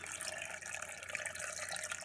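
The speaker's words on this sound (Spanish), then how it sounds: "Voy a agregar una poca de agua." Water poured into avocado salsa in a blender, a steady close splashing trickle running alone for about two seconds.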